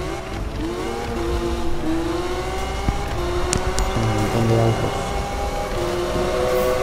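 Several cars racing in Need for Speed: Most Wanted, including a new Lamborghini Aventador, their steady engine drone rising and shifting in pitch close up under continuous gameplay sound, with a voice talking over it.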